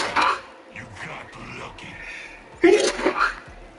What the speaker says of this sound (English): Stop sneezing.